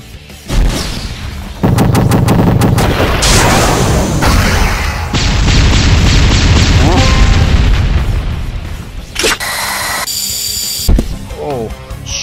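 Cannons firing in a Sonic video game: booming blasts and rapid mechanical bursts pile up in a loud, dense mix of game effects, with sharp electronic tones late on and a voice speaking over parts of it.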